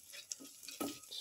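Fennel seeds, caraway seeds and a clove go into butter in a pan. The sizzle and crackle is quiet and uneven, with small pops and one brief stirring scrape, and it sits close.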